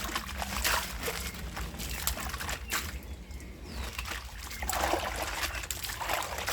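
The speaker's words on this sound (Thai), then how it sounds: "หลังจากที่เราต้มเดือดแล้วเนาะเราก็มาล้างด้วยการใช้ น้ำก๊อกเลยค่ะ" Tap water running over boiled, black-dyed mudmee silk during rinsing, a continuous splashing trickle with sloshing surges and brief quieter stretches, heard close up with no talking.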